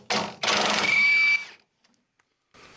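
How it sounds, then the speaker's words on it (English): Rear bumper bolts, 18 mm, being removed from a 1999–2009 Chevy Silverado GMT-800 with a power tool: two close, loud bursts of whirring and buzzing, the second longer, then near silence with faint ticks and a brief soft rattle at the end. "What we're going to do is just remove all 6 of the bolts that are left in there"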